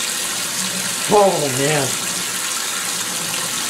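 Water splashes and trickles steadily inside the drum of a GE Infusor GTWN5050M0WS high-efficiency washing machine, a soft continuous wash, with a brief spoken exclamation partway through.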